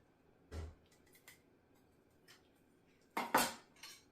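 A breaking knife works through the joints of a whole raw chicken in a kitchen, giving a soft thump, a few faint scrapes, then a louder cluster of clattering blade and board knocks near the end, with no talk.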